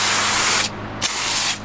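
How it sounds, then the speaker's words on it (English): Wet foam bursts from a sprayer while detailing a Kenworth vac truck, a loud close hiss that cuts off twice and resumes, with no talking. "Ooh, I like this wet foam. It's kind of spraying all over my other work"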